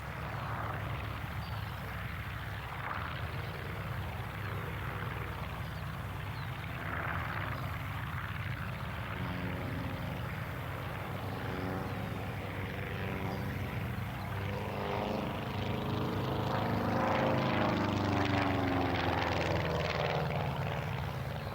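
A Cosmic Wind propeller racing plane drones steadily overhead at the 1999 Duxford airshow, its engine note shifting and swelling louder toward the end as it passes by.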